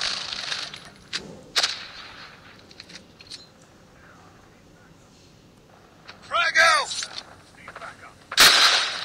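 Call of Duty gunfire crackles in a few scattered, sharp bursts with a louder volley near the end, mixed with game effects while players talk over it.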